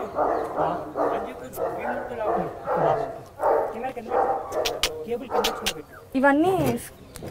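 Dogs bark and yip repeatedly in quick, uneven bursts nearby, while people talk over the noise.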